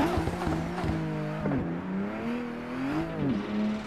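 A Lada's engine revving hard while drifting in Assetto Corsa, its tone rising and falling with each throttle blip and gear change, loud and close with faint tire scrub underneath and no talk.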